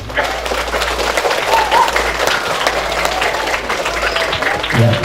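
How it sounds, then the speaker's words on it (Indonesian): Students at a primary madrasah graduation ceremony in Lampung Barat clap for their teachers, a dense, steady applause filling the space, with a low hum underneath and a voice faintly audible over it. "Tepuk tangan untuk guru-gurunya."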